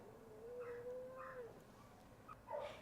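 A pet cat with teal green eyes gives a long, steady meow followed by two shorter, higher mews, faint and close in a quiet indoor room.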